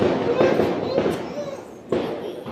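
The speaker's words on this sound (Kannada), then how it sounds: "ಏನು ಪಟಾಕಿ ಹೊಡಿತಿದಾರಲ್ಲ?" Firecrackers burst outside during a birthday celebration, giving a few sharp pops over steady background noise while people talk nearby.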